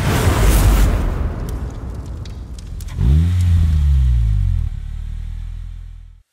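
A Polaris Slingshot fitted with a GT3-inspired rear wing revs hard once, a loud, close engine roar rising and falling over about two seconds after a stretch of rougher broadband engine noise, then settling into a steady idle.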